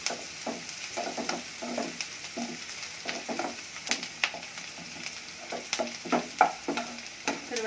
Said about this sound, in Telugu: ఇప్పుడు పసుపు కొంచెం వేసి, పసుపు వేసిన తర్వాత ఒకసారి తిప్పాలి.